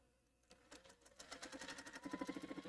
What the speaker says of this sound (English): We're just going to sew them all. Chain piece it!